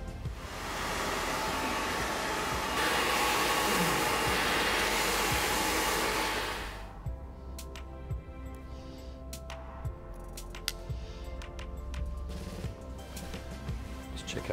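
A hair dryer blows a loud steady whoosh while hair is being blow-dried after a cut, running for several seconds before cutting off, followed by quieter rustling, snipping and handling sounds.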